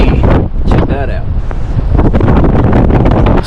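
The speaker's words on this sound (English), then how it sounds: "Super windy right now." Strong, cold, wet wind buffets a phone microphone outdoors in loud, irregular gusts and rumbling bursts, with brief fragments of a voice caught in the noise.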